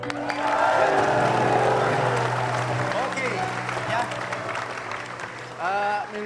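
Studio audience clapping hands during a live sahur entertainment show, a dense, fairly loud burst of applause and crowd noise with a voice talking and calling over it.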